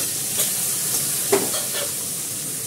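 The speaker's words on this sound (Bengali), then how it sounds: "এবার এটা পেঁয়াজটা আর আলুটা একসঙ্গে দিয়ে দেবো" Onion and potato tipped into a pan of hot oil where fish has been fried red, giving a loud, steady sizzle throughout with a brief scraping stir in the middle.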